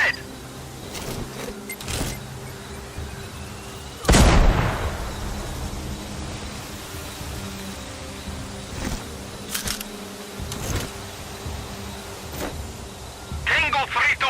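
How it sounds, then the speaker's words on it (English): An explosion in the shooter game Sniper Ghost Warrior Contracts 2 bursts out as one loud, sharp boom that fades into a rumbling tail. Game ambience and scattered clicks and pops run around it. "I heard an explosion."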